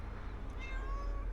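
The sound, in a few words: cat meowing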